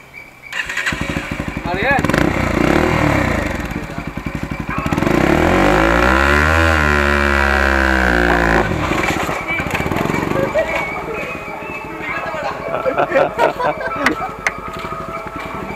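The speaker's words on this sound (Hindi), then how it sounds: "भाई लोग अभी हम बर्न आउट मारने की कोशिश करते हैं" A Bajaj Pulsar NS 160 motorcycle revs hard during a burnout attempt, its engine climbing and falling in loud, close bursts with a sustained high-revving stretch in the middle, while people talk and shout over it.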